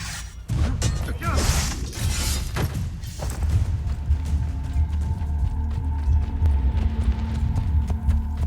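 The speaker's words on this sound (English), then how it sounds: "That horse literally just appeared behind that rock." Horse hooves clatter in Assassin's Creed Brotherhood near ancient Roman baths, a loud, busy run of thudding steps mixed with game clatter and crashes, no voices.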